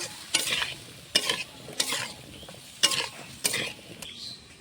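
Squash and potato cubes frying with turmeric in a pan, stirred in about five distinct scraping strokes over a low, steady sizzle, close and fairly quiet.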